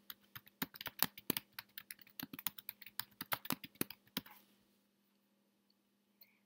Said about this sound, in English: So that's what I'm going to type in here.